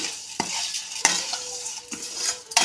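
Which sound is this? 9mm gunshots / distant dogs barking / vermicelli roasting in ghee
vermicelli roasting in ghee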